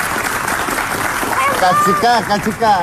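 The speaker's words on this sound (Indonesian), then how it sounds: "Wah, Masya Allah, tepuk tangan." Applause from a studio audience, a brief wash of steady clapping beneath a voice talking over it, with the talking growing louder toward the end.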